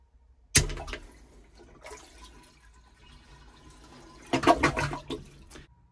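A toilet flushes after being unclogged with a Pipe Blaster, opening with a sharp burst of rushing water, then gurgling and refilling, with another strong surge near the end.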